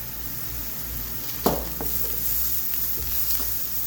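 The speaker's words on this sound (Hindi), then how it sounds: "जो बंद गोभी मैंने इसके अंदर डालनी है उसको मैं हल्का सा फ्राई करूंगी" Shredded cabbage lightly frying in a pan for chana chaat, a soft continuous sizzle with one sharp clink of a utensil and a few stirring scrapes, close and without voices.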